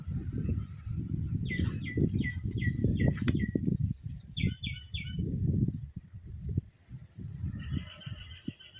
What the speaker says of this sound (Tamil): மயில் சத்தம், குருவி சத்தமெல்லாம் நிறையா சூப்பராக கேட்கும்